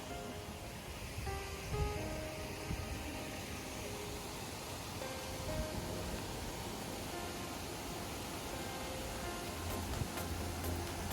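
Waterfalls at the Atlantis Bahamas resort pour in a constant broadband rush, a steady hiss of falling water heard at moderate distance without voices.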